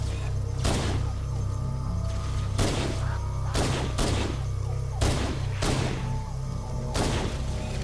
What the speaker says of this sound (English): We'll get some good shots in here with this pistol here